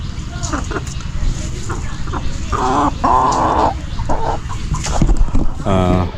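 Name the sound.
broiler chickens clucking while eating grass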